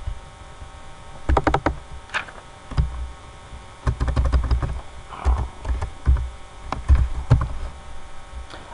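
Someone types voltage values on a close computer keyboard in uneven bursts of clicky keystrokes, separated by short pauses over a faint background hum, with no talking.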